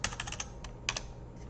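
Quick, light keystrokes on a computer keyboard, a short burst of several taps followed by a brief pause and a couple more clicks, close and quiet.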